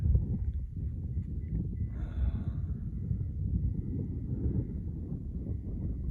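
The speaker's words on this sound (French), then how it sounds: "je sens que le vent souffle" Steady low rumbling desert wind buffets the microphone throughout, a continuous roar with no voices.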